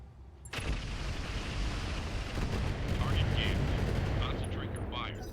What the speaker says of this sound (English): They're firing on the Spectre.